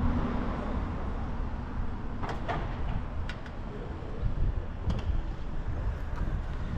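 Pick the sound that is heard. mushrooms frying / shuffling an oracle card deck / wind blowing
wind blowing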